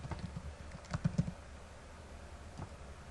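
Keys on a computer keyboard clatter in a short, faint burst of rapid taps, followed by quiet and a single later keystroke.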